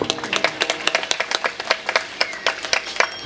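Audience applause at a religious discourse, part of a large devotional gathering in Nashik: brisk, fairly close hand claps rising in repeated bursts for about three seconds, with no voices over them.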